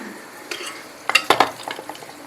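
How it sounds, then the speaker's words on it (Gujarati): Khichdi being tempered in a pot gives off a crackling sizzle, with a few sharp spoon scrapes and clinks against the metal standing out over a steady frying hiss, close and moderately loud. "તો હું પહેલાં છે ને ખીચડી વઘારી દઉં"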